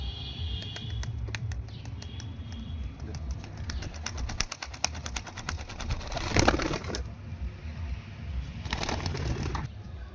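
Madras breed pigeons coo and flutter nearby in a loft, soft murmuring calls mixed with rapid clicking and a couple of louder rustling bursts over a steady low background.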